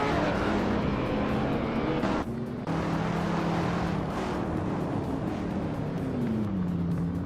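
Race cars in a racing video game roar continuously, loud engines droning and shifting pitch as they accelerate, with a brief dip midway before the sustained engine noise resumes.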